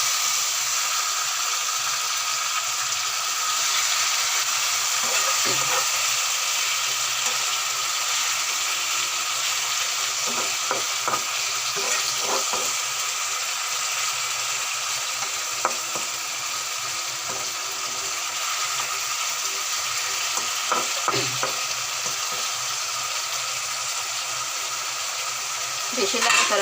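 Fish curry simmering and frying in a pan with potatoes, a steady broadband sizzle running throughout with occasional clinks and scrapes of stirring; no talking.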